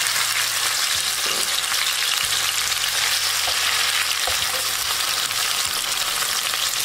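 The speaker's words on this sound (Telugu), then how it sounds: "ఇప్పుడు అదే ఆయిల్ లో ఈ టమాటా ముక్కలు తీసుకున్నాం కదా, ఈ ముక్కలు వేసి వేయించుకోవాలి" Tomato pieces fry in oil for a tomato chutney, producing a loud, dense, continuous sizzle with a few faint stirring knocks and a low background hum, close up and without speech.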